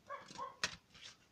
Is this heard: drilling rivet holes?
no